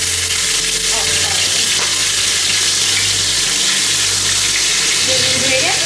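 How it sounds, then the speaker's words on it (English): Garlic, ginger and turmeric frying in hot oil, a loud, steady sizzle with crackling spatter that runs throughout, close up and without talk. "The oil is quite hot, so you can fry the ingredient through."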